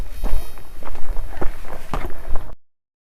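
Footsteps of people trekking toward Mauli Fort in hot sun crunch along the trail at a steady walking rhythm, close and fairly loud, before cutting off abruptly.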